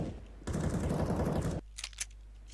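A rapid burst of automatic gunfire from the video game CS:GO lasts about a second, then drops to a few quieter clicks and thuds.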